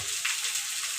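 Regular white cooking oil sizzles in a pan while preparing tilapia with potatoes, a bright steady hiss close up with a slight swell partway through.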